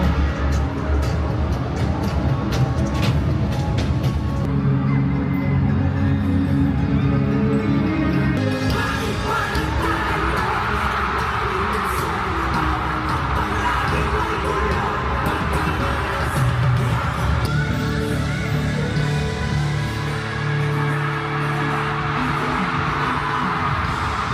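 Crowd screaming and cheering at a boy-group concert kickoff, a dense, continuous roar of many voices filling the whole stretch with surging swells, loud and steady throughout.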